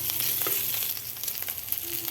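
Steady sizzling of pork, onion and garlic frying in a pan, with a few soft stirring scrapes, close and continuous.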